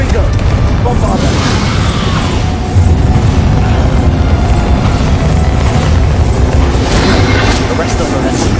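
Spell blasts from the Bombarda curse in Hogwarts Legacy, a loud, dense wash of booming impacts and crashing debris that runs continuously with a sharp surge near three seconds, with a voice speaking over the action.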